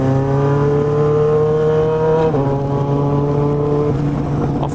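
A Honda CB motorcycle engine holds a steady, throaty idle, nearby and loud, with two slight dips in pitch as the throttle shifts and a constant droning hum throughout.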